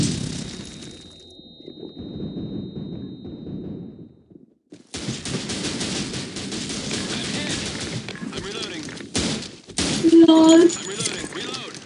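Bursts of rifle gunfire from the first-person shooter video game Blackshot crackle in clusters, separated by short gaps of near silence, with a louder flurry of shots toward the end and some voice chatter mixed in.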